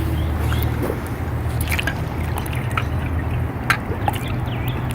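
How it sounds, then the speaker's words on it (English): An Intex pool cleaner vacuum sinks into a backyard pool as water fills its hose, giving steady low gurgling and trickling water with scattered drips and small splashes close by. "I'm going to sink the vacuum and get the water into the hose"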